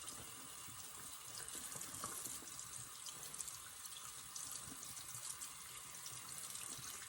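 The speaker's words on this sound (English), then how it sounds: "Rinse it. Do a quick squeeze just to make sure that you've got it all clean." Steady stream of tap water running over a makeup brush being rinsed at a sink, a continuous close splashing hiss with no talking.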